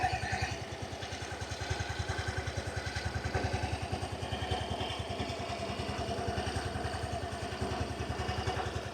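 A 2024 Yamaha Grand Filano Hybrid scooter idles steadily up close, its low engine pulse ticking in an even, continuous rhythm with faint mechanical clatter and no voices.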